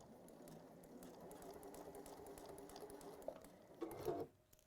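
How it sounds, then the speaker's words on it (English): A sewing machine stitches a folded fabric pouch with a magnetic clasp, a steady close mechanical whir of running stitches that swells louder near the end and then stops abruptly, with no talk. "I'm going to go a few stitches, then I'm just going to do a little holding stitch."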